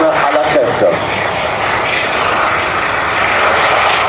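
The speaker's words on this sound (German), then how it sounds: "sehen Sie die nun wieder einfliegenden Hubschrauber zur Aufnahme aller Kräfte" Helicopters flying in at the ILA Berlin air show at Berlin Expo Airport, Schönefeld: a loud, steady wash of rotor and engine roar filling the air, with announcer talk faintly underneath.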